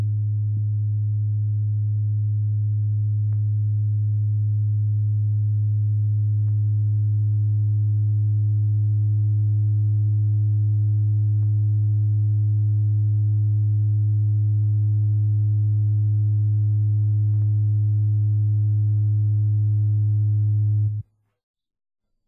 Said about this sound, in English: The oscillator puts out a pure tone in the shape of a sine wave at 110 Hz